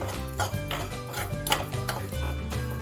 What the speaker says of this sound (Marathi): आता आपल्याला हे सर्व साहित्य छान भाजून घ्यायचं आहे वास सुटेपर्यंत